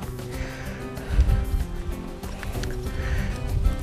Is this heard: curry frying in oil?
no